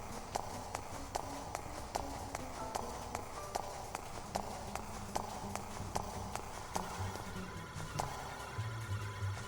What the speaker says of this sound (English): Her footsteps, man.